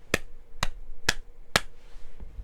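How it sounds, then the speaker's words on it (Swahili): Four sharp hand claps ring out at an even, deliberate pace in a church setting, each crisp and close with a short room echo, and no voices over them. "Mpigie makofi Yesu."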